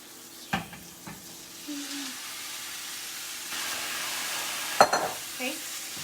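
Steak pieces sizzling and being stirred in a hot pan for Philly cheesesteak stuffed peppers, a steady frying hiss with a few scraping utensil clicks and a brief faint voice.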